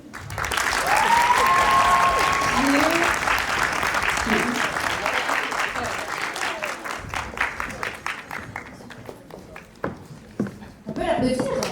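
A crowd applauds the second-place winner of a cosplay contest at the Cartoon Fair 2023 convention: dense, loud clapping that thins and fades toward the end, with a voice over the start and talk returning at the close.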